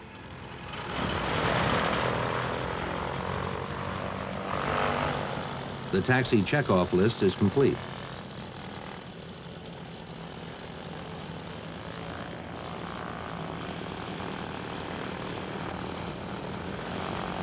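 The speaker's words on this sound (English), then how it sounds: "Once again, the reliable engines start without hesitation." Piper Navajo twin piston aircraft engines running on the sea ice of McMurdo Sound, a steady droning hum under spoken narration, with a brief burst of pulsing radio chatter midway.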